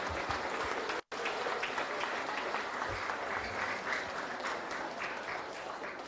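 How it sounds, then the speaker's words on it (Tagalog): A crowd at a Manila flag raising ceremony applauds the city councillors, steady, even clapping from many people with a brief dropout near the start before it carries on without letup. "Palakpakan natin ang ating mga konsehal."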